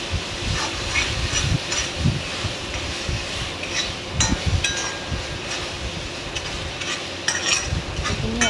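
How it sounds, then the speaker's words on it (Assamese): A vegetable mixture of curry leaves and skunk vine leaves fries in a pan for an Assamese curry, with a steady loud sizzle broken by scraping and stirring clatter throughout, and no talk. "এইখিনি মই অলপমান সময় ভাজিম।"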